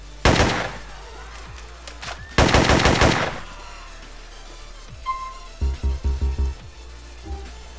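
Golden rifle from a Naruto-themed GTA San Andreas mod, fired in two loud rapid bursts near the start, then a lighter string of six quick thumping shots later, with faint background game noise between volleys.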